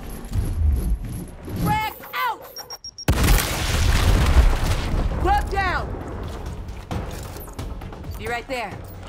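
A frag grenade blast in the tactical shooter Gears Tactics lands as a loud, sudden boom around the three-second mark, followed by rumbling debris. Electronic chirps and a voice are heard around it.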